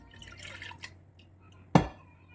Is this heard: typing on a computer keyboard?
no